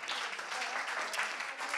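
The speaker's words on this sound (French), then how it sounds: "On peut l'applaudir, hein, je pense." Applause from an audience at a forum in honour of a Michelin-starred chef, a dense, steady crackle of many hands clapping throughout, fairly loud and without talk.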